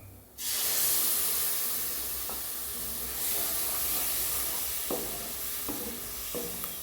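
Blended boiled tomato puree hits a hot pan of oil and spices for aloo kurma, setting off a sudden loud, steady sizzle that hisses on continuously, with a few soft spoon scrapes and taps.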